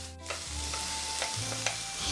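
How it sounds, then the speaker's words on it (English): Sausage and pepper mix sizzles steadily in a frying pan, a constant hiss with a few soft clinks of a utensil stirring, close and alone with no talk. "All right, it started sizzling."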